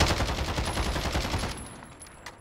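Rapid automatic gunfire from a video game gun rattles in a dense, sustained burst for about a second and a half, then cuts off and leaves a fading tail with a faint high ring.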